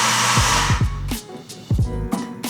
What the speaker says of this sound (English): And then I'm gonna grind my coffee into the portafilter.